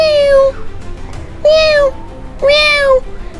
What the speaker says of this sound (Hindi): बिल्ली भी सामने आ गई, सामने से आ गई